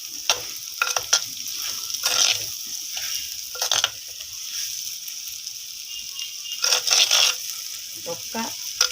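Potatoes fry and get stirred in a pan for a prawn potato curry, a constant sizzle broken by repeated scraping and stirring strokes, close and fairly loud.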